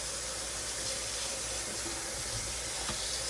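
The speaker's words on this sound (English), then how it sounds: "I had it turned on cold, so I'm turning it back on hot." Water running steadily from a kitchen tap as it is switched from cold to hot, a soft continuous hiss and splash at low volume with no voices.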